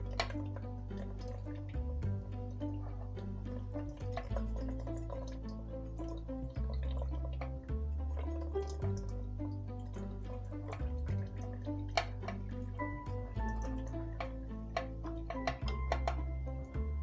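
Engine oil drains from a BMW R1250 GSA motorcycle into a drain pan, a continuous quiet trickling and dripping over a low steady hum, with no talking.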